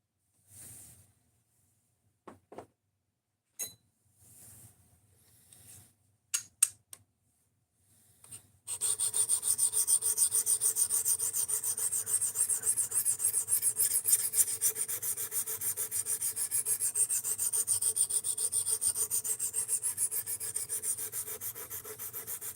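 Kaiser Vanguard Critical Mini knife in 3V steel being sharpened, a few scattered scrapes and taps, then continuous rhythmic rasping strokes of the blade across a stone, close and steady.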